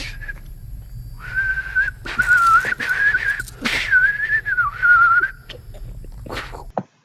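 A character from the film Us whistles a clear, wavering melodic tune in sustained phrases with brief breaks, set over a low rumbling bed and scattered sharp noises, fairly loud and close.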